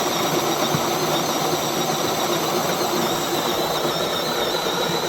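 A Spinn coffee maker spins up and grinds beans from a large hopper, giving a steady, loud mechanical whir and hum that runs continuously without pause, with no talking.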